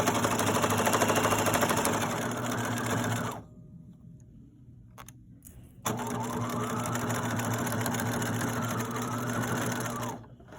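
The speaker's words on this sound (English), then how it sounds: "back tack, sewing, don't sew over pins." A sewing machine stitches a popcorn bag in two loud, steady runs of rapid mechanical whirring, broken by a brief pause with small clicks, heard up close.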